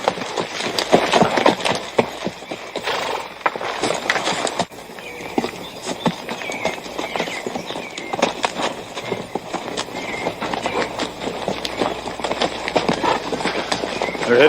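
Several horses approach across open ground, hooves clip-clopping in an irregular, overlapping patter that carries steadily throughout, with a brief dip partway before the drumming of hooves builds again.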